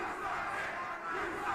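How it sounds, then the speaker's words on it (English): Crowd of wrestling fans at an old-school wrestling event roaring and cheering steadily, a dense, sustained wash of voices heard from within the arena. "Listen to the fans."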